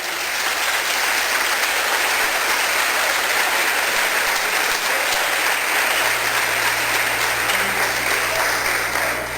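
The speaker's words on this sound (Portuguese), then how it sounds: "Você pode aplaudir a Deus." Dense, sustained applause fills a church celebration service, a continuous roar of many hands clapping at full strength without pause.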